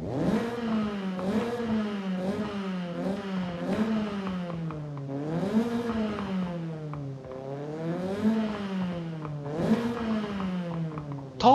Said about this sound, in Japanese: ターボっぽい音はするけど、結構いい音するね、やっぱ。